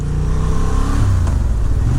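A Honda Hornet 750 motorcycle engine runs close by with a steady loud throb that rises slightly midway, a continuous mechanical drone.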